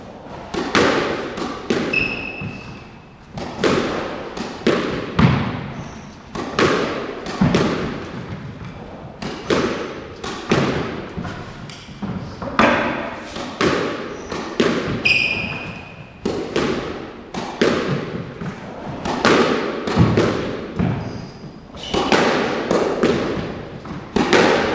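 Squash ball struck repeatedly with a Salming Fusione racket on a court, sharp echoing thwacks followed by wall and floor bounces in a steady rally rhythm, with occasional shoe squeaks.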